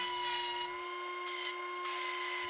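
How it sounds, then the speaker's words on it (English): A power sander with 40 grit sandpaper works across a live-edge wood tabletop, producing a constant, close, high-pitched whine with a steady tone for the whole stretch. "Then I started sanding with 40 grit sandpaper, trying to leave the shape of the live edge"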